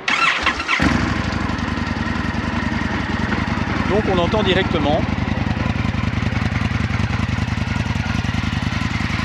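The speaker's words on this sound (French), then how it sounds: "on va faire démarrer la version carbone avec ses Akrapovic" An Indian FTR 1200 S Carbon motorcycle with Akrapovic exhaust starts and settles into a deep, throaty rumble that runs loud and steady throughout, with someone talking briefly over it.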